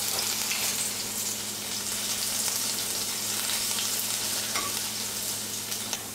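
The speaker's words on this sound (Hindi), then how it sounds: "सबसे पहले ये अदरक लहसुन डाल देंगे।" Finely chopped ginger and garlic fry in hot oil, giving a steady, loud, close crackling sizzle throughout with a few faint clicks.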